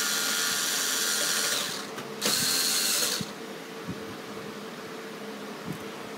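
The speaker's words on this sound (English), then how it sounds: "If only it would drill screw faster." A power drill driving a screw whirs in a loud sustained burst, briefly stops, then revs again for about a second before cutting out, leaving faint clicks.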